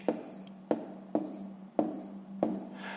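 Pen or pencil writing numbers by hand while working a long-division problem for a fifth-grade math exercise, five crisp strokes or taps spaced evenly across a quiet background, with no talking.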